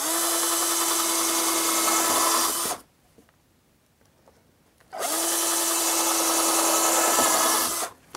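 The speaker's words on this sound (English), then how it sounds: "I'm going to begin by just drilling out some pilot holes here" A power drill whines steadily in two long bursts, a few seconds each, drilling pilot holes in model railroad roadbed, with a quiet pause between them, loud and close.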